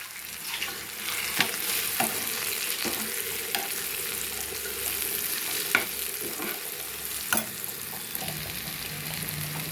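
Brinjal and garlic frying in a pan for a spicy Andhra stir-fry: a continuous soft sizzle throughout, punctuated by several sharp clicks as a spatula stirs and scrapes the pan, with no talking.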